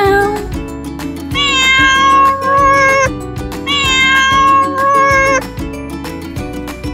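A sung, melodic meowing over a bouncy musical backing with a steady beat, the voice imitating a cat several times in a children's learning song.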